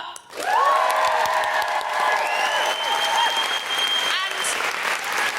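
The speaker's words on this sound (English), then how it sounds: "can we have a really, really big round of applause for our fantastic co-host, Jen Brister?" Live podcast audience at a comedy recording applauding and cheering, a dense, loud, sustained wall of clapping with whoops rising over it, lasting throughout.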